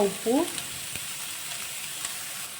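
Onions frying in a pan over a medium flame while banana manchurian is prepared, a soft steady sizzle with a brief clink of stirring near the start.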